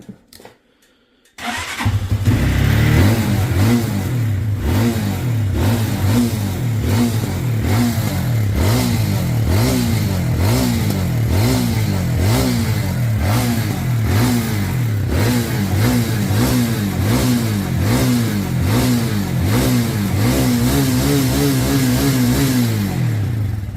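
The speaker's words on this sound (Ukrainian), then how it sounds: "Після прогазовки холостий хід тримає рівно" A Geon Pantera motorcycle engine starts with a brief crank, then runs loudly and close, holding a steady pulsing idle with repeated light throttle blips for about twenty seconds.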